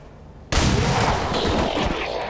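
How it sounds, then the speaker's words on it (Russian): A single loud pistol shot in XCOM 2 bursts in abruptly after a quiet half-second, followed by a sustained roar of battle noise and reverberation that continues to the end. "Это из пистолета выстрел, который не тратит очки"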